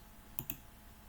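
Two quick, soft clicks of a computer keyboard key being pressed, close together and faint against a quiet background.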